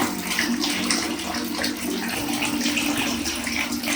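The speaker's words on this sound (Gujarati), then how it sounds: "નળ બધા ચાલુ કરી દીધા છે" Water pours from several open household taps to drain a water tank. The rush is loud, steady and continuous throughout, with no voices.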